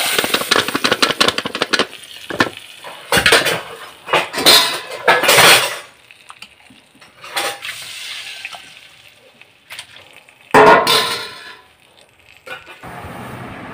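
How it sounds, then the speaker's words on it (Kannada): Spices tempered for sambar in a pot crackle and sizzle in loud bursts, with metal clinks and clatter between quieter stretches. "ಸಾಂಬಾರಿಗೆ ಒಗ್ಗರಣೆಯನ್ನು ಹಾಕೊಳ್ಳೋಣ."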